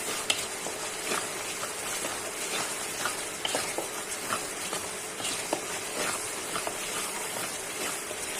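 Spice paste fries in a pan for a dried fish curry, a constant, fairly quiet sizzle dotted with small pops and light stirring clicks, no voices.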